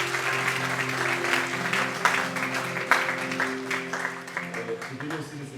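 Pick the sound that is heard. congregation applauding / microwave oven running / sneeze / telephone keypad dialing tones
congregation applauding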